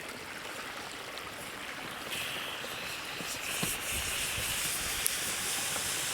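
Hot rocks, rinsed of ash, sit in water inside a hollowed cactus and give a soft, continuous hiss that thickens partway through, with a couple of faint pops.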